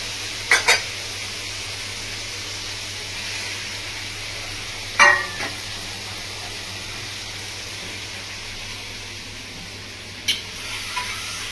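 Katla fish fries in hot spiced oil in a Bengali village-style kitchen, a steady quiet sizzle broken by three short scraping stirs of a spoon against the pan.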